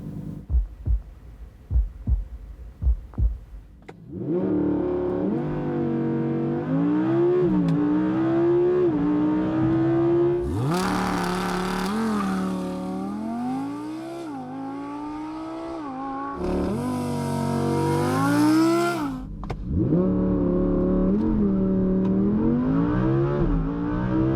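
A 2016 Audi R8 V10 plus launches hard from a standstill, its engine roaring loudly from inside the cabin and climbing in pitch through several gears, each upshift bringing a brief dip before the wail rises again, with no talking.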